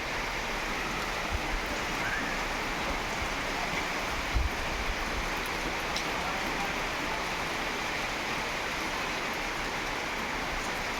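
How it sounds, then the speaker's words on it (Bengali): Rain falls outside a house beside green rice paddy fields: a steady, dense, close hiss that continues unbroken throughout, with a few soft thuds and no voices. "বৃষ্টি পড়লে কার কার ভালো লাগে"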